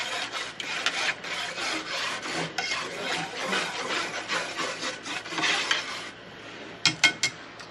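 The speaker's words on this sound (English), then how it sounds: "now I like to use a whisk. Gets everything in there nicely. Helps stir it up" Whisk stirring turkey tail feather dye in a container, a continuous close scraping and swishing for several seconds, followed by a few sharp clinks.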